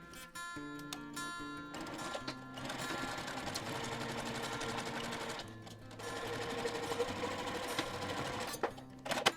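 Sewing machine stitching a seam on a boho fabric bag, a steady rapid mechanical whirr with brief pauses and restarts, close and continuous with no talk over it.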